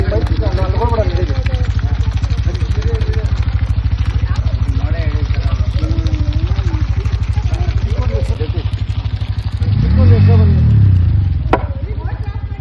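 A motorcycle engine idles with a steady, close, throbbing rumble for the whole stretch and swells louder near the end, while people talk over it.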